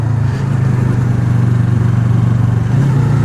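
A Yamaha R3 sport motorcycle riding and braking, its engine a steady loud droning hum with a slight rise near the end, heard close throughout with no talking.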